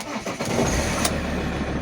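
An Alfa Romeo 939 Spider with the 2.4 MultiJet diesel cranks briefly, then catches and settles into a steady, close idle rumble.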